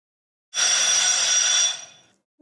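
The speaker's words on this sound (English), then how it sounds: "That was the bell for the bonus as well." At a school quiz competition, a bright electronic bell rings once, loud and steady for over a second, then fades out.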